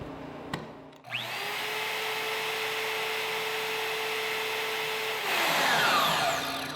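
A portable bandsaw on a Swag Off Road stand switches on after a click, whines at a steady pitch for several seconds, then its tone shifts near the end.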